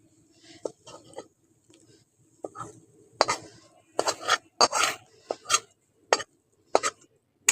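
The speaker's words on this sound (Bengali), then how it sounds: "মশলাটা দিয়ে খেঁচুড়ের মধ্যে ভালো করে মিশিয়ে নিচ্ছি" A spoon scrapes and clinks against a metal pot as fried spices are stirred into khichuri, in irregular close bursts that grow busier and louder partway through, with no speech.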